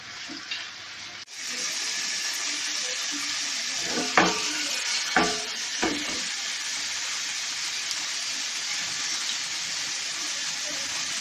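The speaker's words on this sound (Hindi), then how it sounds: "दरमियानी आंच पर आप इनको शैलो फ्राई करेंगे।" Gola kababs shallow fry in oil over medium heat, a steady bright sizzle that runs throughout, broken by a few scraping and clattering knocks from a spatula in the pan.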